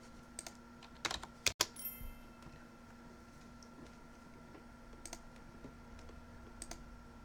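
Computer mouse or keyboard clicks during an online Dominion card game match, a few scattered soft clicks with one louder double click near the start, over steady low electronic hum.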